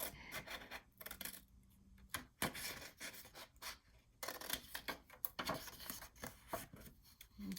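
Paper being cut for a handmade pocket waterfall mini album, a quiet close run of rasping scissor snips and rustles with short pauses between cuts.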